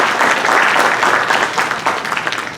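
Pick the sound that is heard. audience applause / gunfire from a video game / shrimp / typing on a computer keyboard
audience applause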